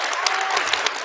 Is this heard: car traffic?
no